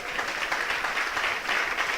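A church congregation applauding during a sermon, a steady wash of clapping from a crowd that holds at an even level for about two seconds.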